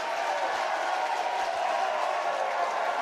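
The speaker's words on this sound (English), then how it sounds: "And a big Llanishen following here. Roaring their applause." Crowd noise from a large Llanishen following at an under-18 rugby final, a steady, dense roar of cheering and applause that holds at an even level throughout, broad and slightly distant.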